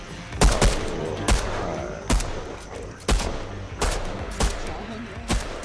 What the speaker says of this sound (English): stuck in here and I'm shooting